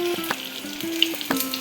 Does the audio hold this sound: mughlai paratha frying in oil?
yes